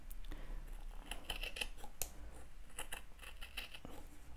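Scissors snip through wool batt fibre for a felt wreath, a quick run of soft close crisp cuts in steady rhythm, faint and with no speech.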